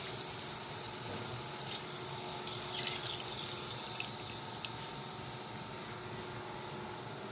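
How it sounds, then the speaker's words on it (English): Water trickles and drips steadily into a container for melon seed soup, a soft continuous splashing with a few brighter drops near the middle, no voices. "the water was added in order to make the soup to have more liquid"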